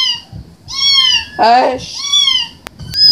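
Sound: cat meowing

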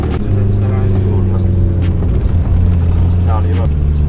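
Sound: car engine running after being started

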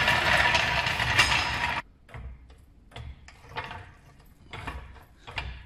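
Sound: jack being positioned and raised under a vehicle

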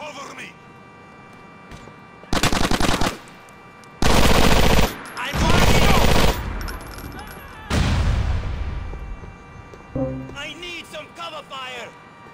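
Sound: gunfire in the video game GTA 4

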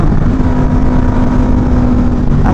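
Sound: motorcycle engine revving

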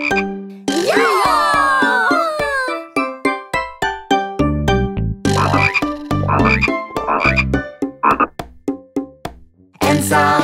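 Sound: frog croaking

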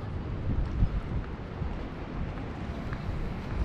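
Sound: icy wind

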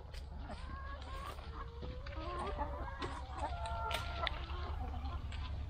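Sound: chickens clucking while eating lemons

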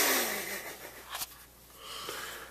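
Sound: yawn

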